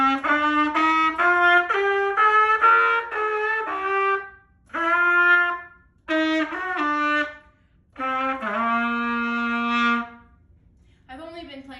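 A trumpet plays a full scale as a run of separate sustained notes in short phrases with brief pauses, loud and close, alone with no talk.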